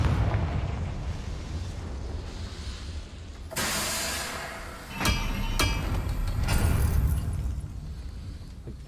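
A Confringo fire spell blasts in Hogwarts Legacy: a loud, sudden explosion bursts in, followed by a few sharp cracks and a long rumbling roar that swells again before fading.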